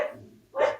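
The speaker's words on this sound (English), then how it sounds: "that's my dog in the background." A dog barks twice indoors in the background, a short bark followed by a louder second bark after a brief pause.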